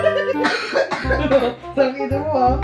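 Repeated coughing after a hit from a vape, a few harsh bursts close by with people's voices mixed in among them.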